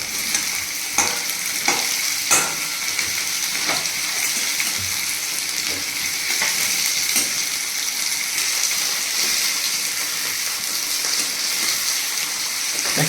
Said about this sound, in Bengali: এতে আলুগুলো দিয়ে একটু পেঁয়াজের সাথে ফ্রাই করে নেব।